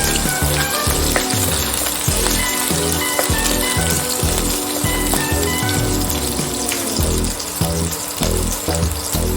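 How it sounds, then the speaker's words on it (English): Finely chopped garlic sautéing in a pan for veg spring rolls, a loud, steady sizzle and crackle that runs throughout with no talking. "finely chopped garlic, just saute it for a minute."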